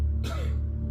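During a hypnosis show at a senior all-night party, a single short cough bursts out from a hypnotized participant, brief and fairly close, amid quiet room ambience.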